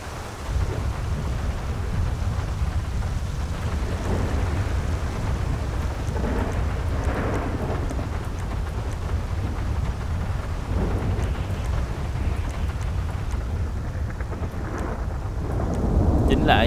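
Steady heavy rain with rumbling thunder in a GTA 5 storm, a dense broadband wash throughout with low rolling rumbles swelling near the end.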